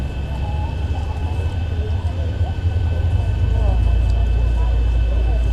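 An airliner's second engine spools up in a flight simulator video game, a steady low roar and whine that grows louder midway, with a speaking voice over it.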